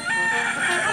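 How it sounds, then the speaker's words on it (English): A loud, close rooster crow starts a costumed animal assault course race, one continuous strained call filling the whole moment with no talking. "The race begins when the cock crows."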